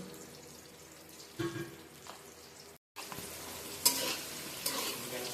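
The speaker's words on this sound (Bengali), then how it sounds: "পটলগুলোকে আমি ভেজে নেব" Pointed gourd pieces fry in oil with salt and turmeric, a soft hiss broken by scraping stirs and clinks of the utensil, with a brief gap of silence midway and no speech.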